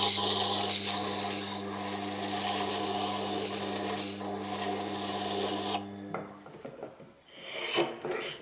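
Steel blade of an old wooden moulding plane rubbed flat on a stone or abrasive in a workshop, a steady close rasping scrape for about six seconds, then a few lighter handling knocks and taps.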